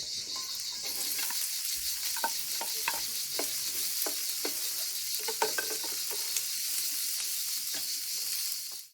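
Diced red onions and garlic sizzling gently on low heat in a paella pan, a steady bright frying hiss with soft scrapes and taps of stirring throughout, no talking.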